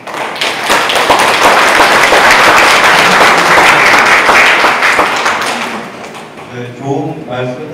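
At a public residents' briefing, loud applause from a seated audience fills most of the moment with dense clapping and a few thumps, then fades as a speaker starts talking.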